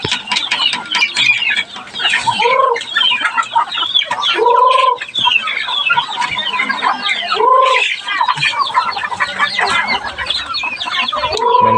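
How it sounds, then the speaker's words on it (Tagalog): Chickens cluck repeatedly and close by at a rural family farm in the province, busy and continuous, with a few louder calls rising above the flock throughout. "Ang daming manok, guys."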